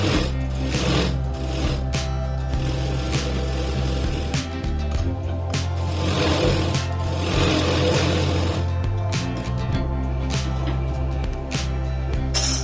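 A sewing machine stitches lace onto a blouse back in bursts of close, fast mechanical whirring and clatter, with short pauses between runs.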